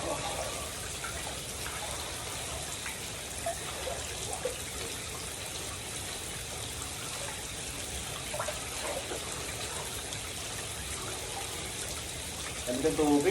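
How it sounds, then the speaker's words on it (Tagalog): Cold water runs steadily from a tap at a Christmas and New Year party, a long, even trickling gush with voices talking over it and a louder splash near the end. "Lamig ang tubig."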